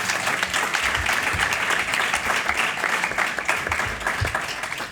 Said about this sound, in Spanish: Un aplauso para Irati.